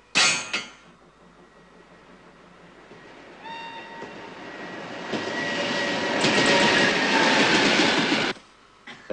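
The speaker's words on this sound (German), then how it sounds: "Der Zug muss gleich kommen." A train approaching on rails, its rumble rising steadily from a distance and growing loud and close before cutting off abruptly, with a brief clank at the start.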